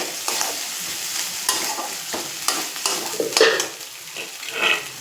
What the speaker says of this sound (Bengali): এবার পোস্ত চালমগজ এটা একটু হালকা করে ভেজে নেব